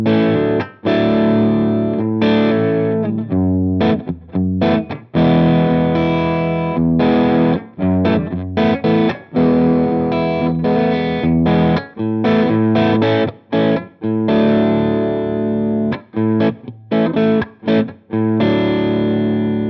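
Electric guitar on a neck single-coil pickup, run through a distortion pedal and an impulse response in a Headrush MX5, plays heavy, saturated chords and riffs with frequent short stops and choppy rhythmic gaps throughout.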